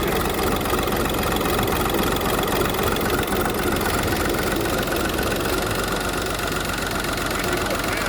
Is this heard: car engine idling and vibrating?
yes